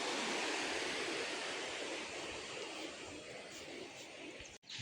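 A stream rushes close by in a hillside village, a dense, continuous wash of flowing water that stays steady and fairly loud throughout, with no one speaking.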